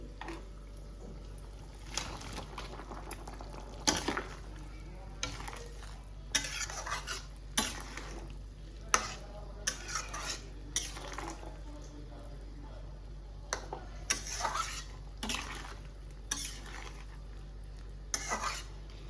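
Fritters (bora) frying in a pan of prawn and potato curry, stirred with a metal utensil: quiet sizzling under repeated sharp clinks and scrapes against the pan, coming in irregular bursts throughout.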